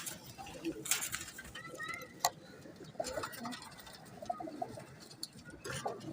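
Saharanpuri pigeons, champion chatt birds, coo softly and repeatedly amid a busy outdoor backdrop, with people talking over and between the calls.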